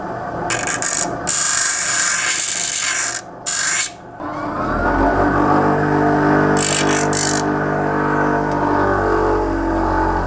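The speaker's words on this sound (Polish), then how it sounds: "A ten sam grzbiet to można na szlifierce troszeczkę, ciut. Na małych obrotach." Scythe blade spine ground on an angle grinder at low speed, a loud close rasping grind with brief pauses, then a steady motor whine as the grinder runs on alone.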